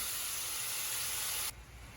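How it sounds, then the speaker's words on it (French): Shrimp frying in an oiled pan give off a steady, loud high hiss of sizzling that drops sharply partway through, leaving a fainter sizzle. "on va faire revenir nos crevettes dans une poêle préalablement huilée"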